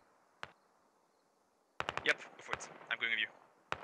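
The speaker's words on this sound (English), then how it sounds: "And the BTR is actually adding fire now." A BTR armoured vehicle's gun firing in the military video game Squad, heard as distant sharp shots and a rapid volley of cracking bursts over quiet background ambience.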